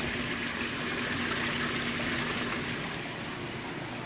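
Water rushes steadily through an Evolution Aqua pond sieve on a koi quarantine setup, a constant, dense hiss and splash of flow that stays close and even throughout.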